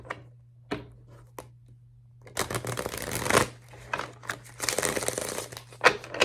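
Tarot cards being shuffled up close: a few quick riffles and taps, then longer bursts of crisp shuffling, no voices.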